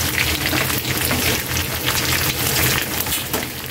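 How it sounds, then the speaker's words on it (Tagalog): Pork frying in its own rendered fat, a dense continuous sizzle and crackle of oil, loud and close, with no pauses. "naging brown na siya ang ating pork at dumami na rin yung mantika"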